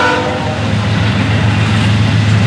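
An FEC 210 freight train rolls past on the railway, a loud, close, continuous rumble with a low steady drone and a horn tone at the start.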